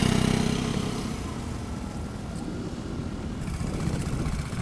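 A scooter engine hums and rises with throttle as the rider eases off the brake and pulls away, a steady close motor drone mixed with road and wind noise, no talk.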